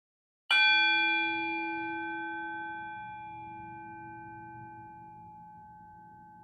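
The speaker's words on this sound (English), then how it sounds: "when you hear my bell, practice this new technique" A single clear meditation bell strike rings out in quiet, its pure tone sustaining and slowly fading over several seconds.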